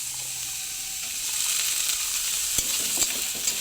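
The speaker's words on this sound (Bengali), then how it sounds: "কড়াই দিয়ে কড়কড় করা হবে কড়কড় করে আওয়াজ করা হচ্ছে" Vegetables frying in a wok with a loud, steady sizzle close by, with scattered scraping and clattering as they are stirred.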